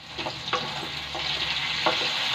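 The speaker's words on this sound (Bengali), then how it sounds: "ফুলকপিটা এরকম একটু লাল লাল ভাজা হয়ে গেছে" Cauliflower pieces browning in a hot pan, giving a steady close sizzle broken by a few soft clicks and scrapes of stirring.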